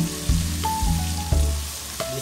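Onions sautéing in a pan for a Filipino beef steak, a loud close sizzle with a few stirring knocks and scrapes, no talk.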